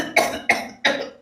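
An old man coughs three times in quick succession, each cough a sharp harsh burst trailing off before the next, close and clear with no talk.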